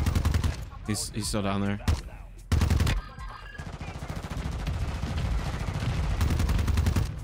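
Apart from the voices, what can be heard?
gunfire in the video game Warzone 2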